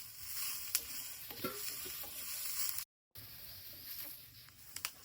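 Dried coconut roasting in a little oil in a pan and being stirred, a close, steady sizzle with scraping stir strokes, briefly cutting out midway, no voices.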